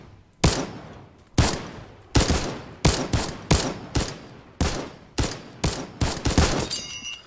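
Rapid video game gunfire from a weapon with bullet drop, about a dozen loud evenly spaced shots, each with a short tail, alone with no talk.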